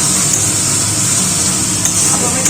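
Loud, steady sizzling hiss as water hits hot spices in a pan, with faint stirring scrapes underneath.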